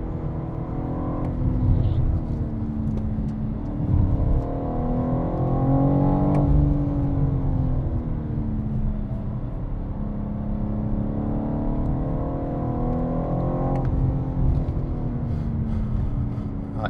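A BMW M4 lapping the Nürburgring produces a steady, close engine drone throughout, its revs climbing and dropping through the gears with faint tyre and wind noise underneath.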